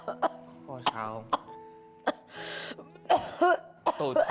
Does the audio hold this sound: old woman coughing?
yes